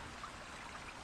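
Stream water flows at a hiking trail crossing, a soft, steady rushing and trickling with no break, heard alone and fairly quiet.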